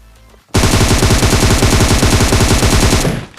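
Sustained automatic gunfire in PUBG Mobile on the Erangel map, a loud, rapid continuous burst of shots lasting about three seconds after a quiet lead-in, with no voices.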